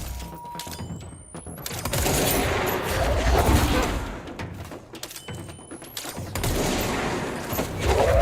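Bursts of rapid gunfire in the video game Control, loud and dense, with a short pause midway before the shooting resumes and runs to the end.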